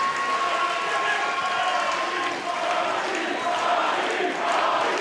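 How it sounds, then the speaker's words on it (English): Wrestling arena crowd at a live pro wrestling elimination event, a steady loud roar of cheering and applause filling the hall throughout, with no break. "And Rocky getting this crowd behind him, getting motivated by this crowd."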